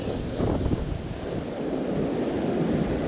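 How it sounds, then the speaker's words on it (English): Ocean surf and wind on a beach in the morning while fishing from the shore, a continuous close roar of breaking waves with gusty wind buffeting the microphone throughout. "Sure is nice to be at the beach this morning."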